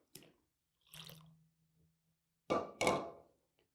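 Vinegar being poured into a homemade glass and oven cleaner mix, heard as a few short, faint liquid splashes and gurgles separated by quiet pauses. No voices are heard.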